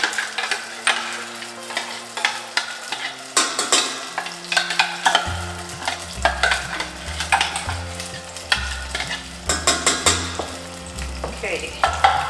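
Potatoes for aloo matar curry fry in a pan, giving a steady close sizzle broken by clinks and stirring scrapes, with tonal music playing underneath throughout.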